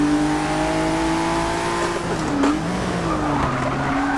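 Tires squeal loudly on a car in the racing game Forza 6, probably a 2017 Ford GT, with a steady engine drone beneath and a sharp skid near the middle that slides and warbles before easing off.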